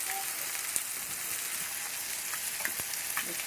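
A fish fillet fries in a wok, giving a continuous, fairly loud sizzle with small crackles and pops throughout and no talking.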